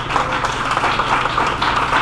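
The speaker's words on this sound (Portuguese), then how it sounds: "Salve de palmas pro João, gente." Dense, continuous applause from a gathered congregation for João at a religious service, steady and moderately loud throughout with no pauses.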